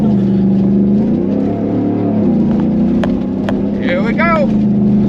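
Ford F-150 pickup with upgraded suspension driven hard off-road: a loud, close engine drone rising and falling with throttle, sharp knocks and rattles from the chassis, and a short whooping voice near the end.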